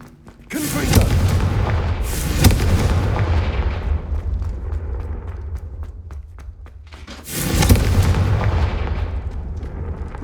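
A Confringo blasting spell explodes in the video game Hogwarts Legacy. A loud booming blast rumbles and decays over several seconds, and a second heavy explosion follows about seven seconds later.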